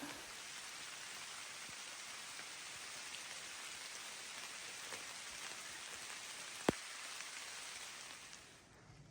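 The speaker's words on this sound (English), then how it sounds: "hopefully the rain lets up" Freezing rain falls steadily on the Bigelows trail in a dense, even hiss that continues throughout, with a single sharp tick partway through before the rain fades slightly at the end.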